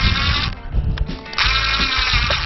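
A power drill bores into a wooden van drawer laid face up, with close, loud whirring bursts that pause briefly in between.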